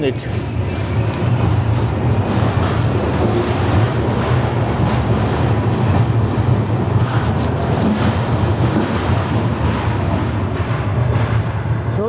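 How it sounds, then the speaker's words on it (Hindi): Indian Railways Visakhapatnam–Mumbai LTT SF Express 22847 pulling out of Bhusawal Junction, a steady loud rumble of rolling wagons and low engine drone filling the whole stretch without pause. "अपने निर्धारित समय पर ही हमारे ट्रेन का डिपार्चर हो रहा है भुसावल जंक्शन से"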